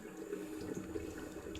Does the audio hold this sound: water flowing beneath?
yes